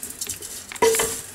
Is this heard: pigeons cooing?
no